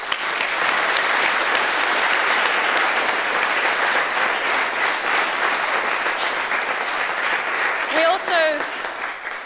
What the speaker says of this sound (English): So if we can do a huge round of applause for all of our sponsors